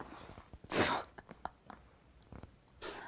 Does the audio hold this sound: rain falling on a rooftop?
no